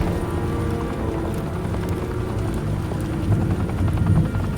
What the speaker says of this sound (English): Why are these choppers everywhere?